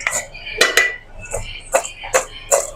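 Turmeric-fried meat with chili being tossed in a pan, a spatula striking and scraping the metal in sharp, ringing clanks several times in quick succession.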